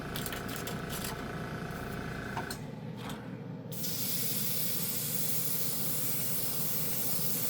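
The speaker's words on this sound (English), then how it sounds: "Let's see if I can spray it over chrome." A paint sprayer hisses steadily while coating a chrome surface, with a short pause before the spray picks back up, loud and close.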